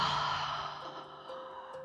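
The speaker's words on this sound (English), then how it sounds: "Take a big inhale and a releasing exhale." A long, releasing exhale during a hatha yoga flow, a single breathy sigh that starts full and tapers off gradually over about two seconds, close and soft with no talking.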